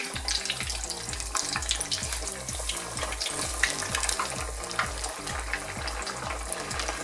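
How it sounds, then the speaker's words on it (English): Pieces of tofu fry in hot oil in a pan, giving a continuous close sizzle and crackle with a steady low rhythmic hum beneath it. No one speaks. "So we'll start one by one, just putting the pieces of tofu into the oil."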